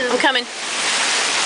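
A Texas spring storm pours heavy rain and hail in a loud, dense, continuous roar; a person speaks briefly at the start before the downpour fills the rest.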